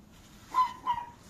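Two faint, short dog barks far off, one after the other, over a quiet background.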